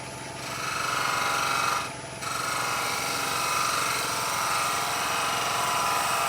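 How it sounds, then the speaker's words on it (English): A skew chisel takes a tiny finishing cut on a small wooden Christmas tree spinning on a wood lathe, a steady close scraping hiss over the motor's hum with a brief dip partway through. "just a very tiny little cut with the skew"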